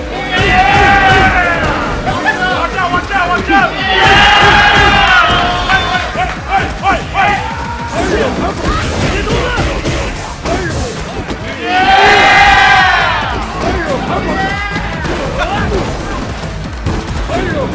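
Crowd noise at a Street Fighter IV 3v3 team match, surging into loud cheers in several bursts over steady hall babble, with commentators talking throughout.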